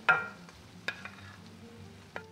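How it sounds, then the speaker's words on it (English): Filet mignon beef hitting a hot skillet with the heat just turned off, a sharp sizzle bursting up at once and then settling into a softer crackle, with a few clinks and stirs in between, close and clear with no talk. "Then turn off the heat and immediately add the beef to the skillet."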